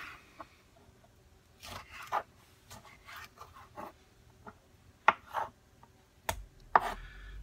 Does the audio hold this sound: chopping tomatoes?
yes